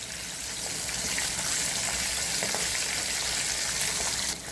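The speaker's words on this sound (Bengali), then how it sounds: "মাছ ভাজা হতে হতে" Pieces of katla fish frying in hot oil for a gandhoraj lemon katla dish, giving a steady, dense sizzle that runs unbroken and fairly loud, with no voices.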